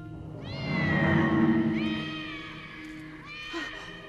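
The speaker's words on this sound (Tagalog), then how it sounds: "Nandiyan na yung pusa." A cat meows several times in a row, with drawn-out, rising and falling calls, fairly close and clear against a quiet background, in a Filipino drama scene.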